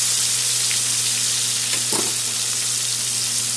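Spice paste of onion and garlic with cumin seeds and chillies sizzles and fries steadily in a hot pan for prawn curry, a loud continuous hiss with a brief stir midway and no talking.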